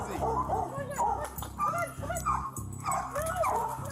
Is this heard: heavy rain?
no